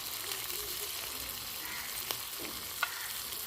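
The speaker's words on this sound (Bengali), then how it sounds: "এবার আদা রসুন বাটাটা দিয়ে দিলাম" Ginger-garlic paste, chopped tomato and ground turmeric sizzling in oil with already fried onions, cooked for a Bengali rui fish tel jhal with brinjal; a steady frying hiss runs throughout with a couple of faint stirring clicks.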